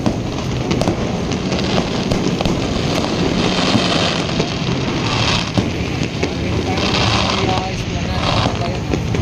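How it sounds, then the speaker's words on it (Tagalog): Dense, continuous outdoor din with scattered sharp bursts of fireworks popping over crowd noise and wind at the esplanade along the Pasig River. "Meron pang fireworks dito sa may esplanade guys."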